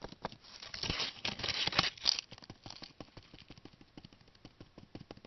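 Sandpaper rubbed against polymer clay toast, giving close, soft scratchy strokes in quick irregular bursts that thin into lighter taps and scrapes.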